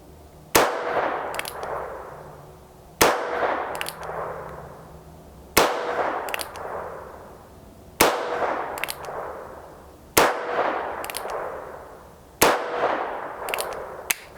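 A Barkeep revolver firing .22 short rounds at a target outdoors, six sharp, evenly spaced reports about two and a half seconds apart, each with a ringing metallic tail.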